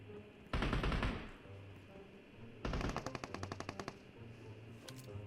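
Two sustained bursts of rapid automatic gunfire in PUBG Mobile, the second with a rattling series of distinct shots, loud and close with lighter game ambience between.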